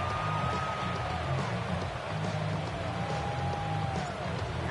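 Rain falling steadily during an American football video game match, a constant broad hiss beneath crowd ambience and a faint wavering tone, moderately loud with no break.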